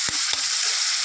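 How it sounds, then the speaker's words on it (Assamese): Bitter gourd frying in a pan makes a dense, steady sizzle up close, with two quick scraping stirs at the start. "এতিয়া ভালদৰে ভাজি ল'লোঁ"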